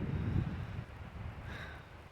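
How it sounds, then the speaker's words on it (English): Outdoor wind buffets the microphone in a steady low rumble, strongest at the start and then easing slightly, with no voices over it. "I'm sorry if the wind is kind of windy"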